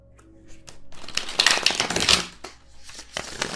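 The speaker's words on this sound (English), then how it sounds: "Do another shuffle real quick." A deck of tarot cards is shuffled by hand, a quick flurry of crisp riffling and tapping that builds and fades over a few seconds, close and fairly quiet.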